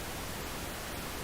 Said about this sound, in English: You'll be able to hear the pink noise get louder and louder until you see 85 decibels on the SPL meter.